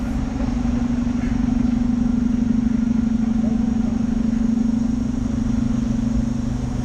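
Bus engine idling at a stop on a trip to Palma de Mallorca, a steady low rumbling drone with faint clatter, close and continuous, no talk.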